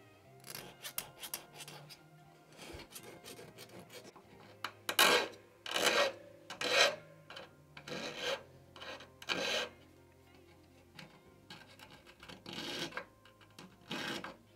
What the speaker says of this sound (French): On va casser les angles avec une lime.